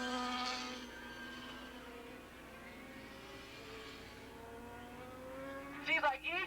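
Race motorcycles at Willow Springs International Raceway in 1987, including a big four-cylinder Suzuki and a Ducati, with engine whine rising and falling from a distance, then a sharper nearer pass at the end.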